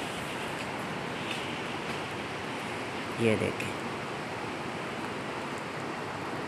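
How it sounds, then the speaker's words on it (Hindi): Rushing water flowing down from the mountains into a valley makes a steady, loud, broad roar that fills the whole stretch, with someone briefly speaking over it. "ये यहाँ से ये पानी जा रहा है, ये शोर जो है पानी का है।"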